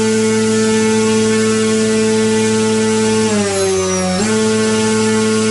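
A brushless motor runs flat out at maximum power, a loud, steady high-pitched whine with strong hum, briefly dipping and wavering in pitch before it settles again.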